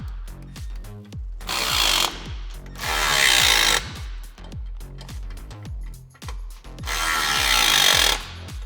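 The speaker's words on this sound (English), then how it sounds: "go ahead and fully tighten the actuator bracket down. That's gonna be the 5mm Allen coming from the outside in with a 13mm nut on the inside" Bolt on the actuator bracket of a Can-Am Maverick power flip windshield being tightened with a 5 mm Allen key against a 13 mm nut, heard as a close sequence of repeated ratcheting, scraping tool strokes in short bursts with no talk.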